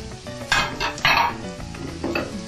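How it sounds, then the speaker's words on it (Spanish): Chopped onion is tossed into a hot frying pan, sizzling steadily while a utensil scrapes and stirs it in a few sharp bursts, close and fairly loud. "vamos a empezar echando ya a freír lo que es la cebolla"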